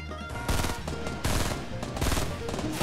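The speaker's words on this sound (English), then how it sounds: "I fucking hate this gun, this three-burst piece of shit" Three-round burst rifle fire in Fortnite, loud repeated bursts cracking out in quick clusters across the clip, with sharp volleys recurring every half second or so over a busy game soundscape.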